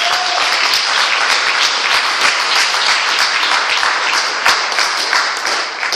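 A church congregation claps together in dense, loud, sustained applause that stays full throughout with no voices standing out.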